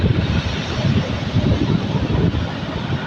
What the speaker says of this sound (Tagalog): Talagang sunod-sunod ang alon, sobrang laki